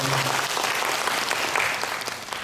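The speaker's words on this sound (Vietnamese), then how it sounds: "đề nghị một tràng pháo tay nhiệt liệt" An audience at an entrepreneurship talk in Vietnam gives warm applause, a thick and continuous roar of many hands that stays loud throughout and fades only slightly at the end.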